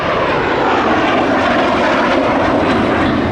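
A captured MiG-15 jet flies at Duxford airfield, its engine a loud, steady roar that fills the whole stretch with no talk.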